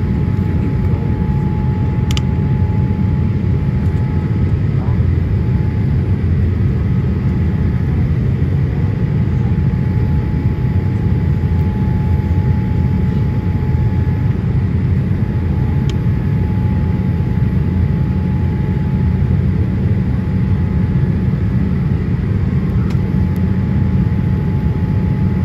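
Cabin noise inside a Boeing 787 airliner during a go-around over Las Vegas, a steady, loud low engine and airflow roar that holds constant throughout, with a faint tonal hum.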